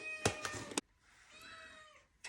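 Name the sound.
cat meowing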